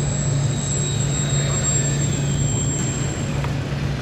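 A radio-controlled 1:16 scale Fokker E.III Eindecker model plane circling in to land, its small motor a steady droning whine at constant loudness throughout, with wind and a person speaking.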